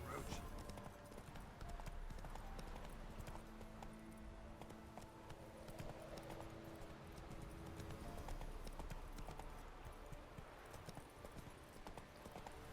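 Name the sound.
horse Roach galloping in video game The Witcher 3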